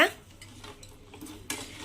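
Utensils clink and scrape against a pot as a mung bean halwa mixture is stirred, with a brief louder clatter near the end.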